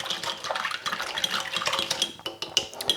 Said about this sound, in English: 4 grams of yeast and 13 grams of sugar. So whisk it up here